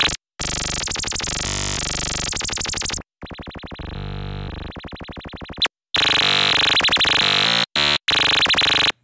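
Harsh, buzzy pulse-wave oscillator tone from the Vult module in VCV Rack, loud and continuous in several sustained bursts with short gaps between them, the timbre shifting as it goes, synthesized with no talking.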